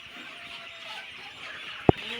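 Sonali hybrid chickens, around forty days old, cluck softly in a poultry shed with rice-husk litter. The sound is a steady, low background murmur with one sharp knock near the end.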